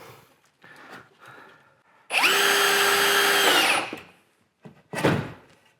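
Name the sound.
power drill removing a screw from plasterboard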